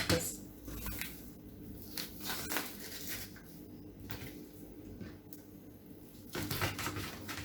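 A knife or scissors cuts the skin off a cull chicken prepared for curry, giving repeated soft, wet snips and squishy tearing sounds at close range, with occasional clatter of kitchenware and no talk.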